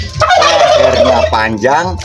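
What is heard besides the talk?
turkey gobbling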